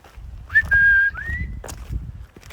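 A mountain marmot gives one sharp, high whistle, drawn out and slightly falling, clear above faint outdoor rustle and footsteps, with no talking during the call.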